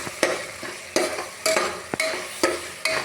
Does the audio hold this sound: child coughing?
no